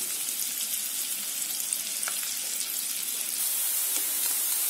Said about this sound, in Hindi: अब हम इसे धीमी आंच पर भूनने देंगे।